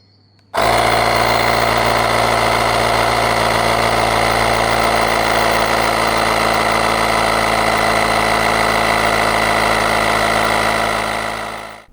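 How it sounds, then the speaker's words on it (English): An AUXITO A501 portable air compressor runs loud and steady as it inflates fully deflated bike tires, a constant mechanical drone with a strong motor hum that starts abruptly and holds without a break. "I've fully deflated these bike tires and we'll be pumping these up"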